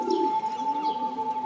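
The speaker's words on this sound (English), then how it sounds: "These birds just came by and they were being really loud." Birds cooing and calling just outside an open bedroom window, a soft close coo followed by fainter chirps, heard alone over a steady electronic hum.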